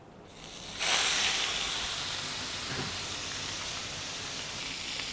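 Olive oil heats in a hot cast iron pan, breaking into a sudden loud, steady hiss about a second in that holds strong and even to the end.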